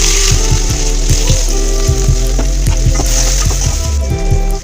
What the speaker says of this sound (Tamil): கடுகு வெடிச்சதும் வெங்காயத்தை போடணும்.